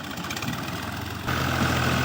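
A tractor engine runs steadily in a farm field while a rotavator is worked behind it as seed is sown ahead, a close, continuous low diesel rumble that grows slightly louder partway through.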